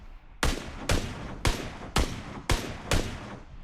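Six evenly spaced single gunshots from PUBG Mobile, each a sharp loud crack with a short tail, about half a second apart, with no talk.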